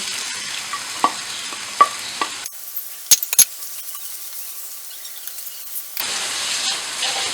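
Onions go into hot oil in a kadai for beef biryani. There is a steady sizzling hiss with spoon-stirring clinks, a sharp clatter in the middle and a louder sizzle toward the end, with no talking.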